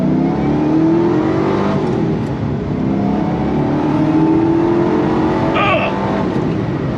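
The 5.4-liter supercharged V8 of a 2005 Ford GT with a manual transmission revs up loud and close, a continuous smooth roar that rises and swells for the whole stretch.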